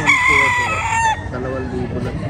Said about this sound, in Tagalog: Pakita natin yung mga manok niya.